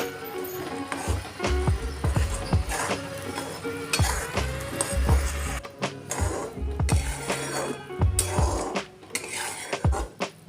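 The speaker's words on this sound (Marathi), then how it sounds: "गूळ आता छान आपल्याला मेल्ट करून घ्यायचं आहे गुळाचा छान पाक बनवून घ्यायचा आहे" Jaggery melting into syrup in a pan over a low flame, stirred with a spoon that scrapes and clinks against the metal in an irregular rhythm. Faint background music plays underneath.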